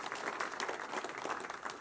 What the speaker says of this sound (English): we want to have a big round of applause for the One Hearts Women Club